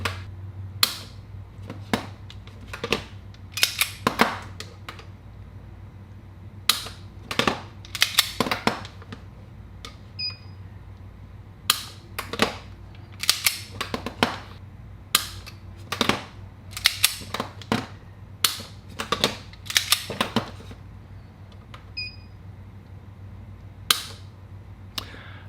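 Repeated dry-fire trigger pulls on an unloaded Springfield 911 .380 pistol give sharp, crisp clicks at irregular intervals, close and distinct over near silence.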